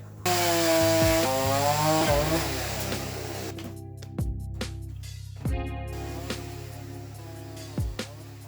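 A chainsaw cuts through wood with a sustained droning whine that changes pitch under load, then drops to idle with a few sharp knocks and thuds.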